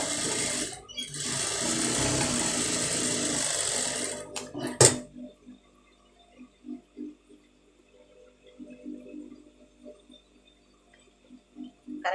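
A sewing machine runs steadily for about five seconds while a blouse sleeve patch is stitched, then stops, leaving quiet handling clicks and low murmurs.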